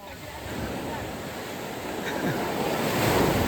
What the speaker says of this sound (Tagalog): Ang balod oh.